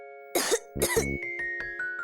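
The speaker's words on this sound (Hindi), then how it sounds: "नींद में भी कैसे खांस रही है।" Two close, harsh coughs in quick succession from someone coughing in their sleep, over a faint steady tonal hum in the background.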